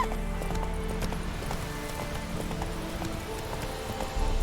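Roach, a horse in The Witcher 3 video game, gallops steadily with rhythmic clip-clop hoofbeats over continuous game music and ambience, with no talking.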